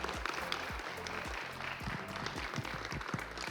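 An audience at West Local High School claps for a student athletic signing, a full, steady wash of applause throughout with some low knocks under it.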